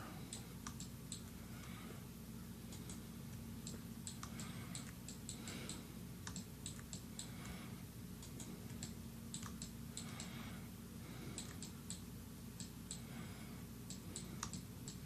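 Computer mouse clicks while editing a 3D model in 3Ds Max, faint sharp ticks in irregular clusters spread across the whole stretch, heard alone over a low steady hum.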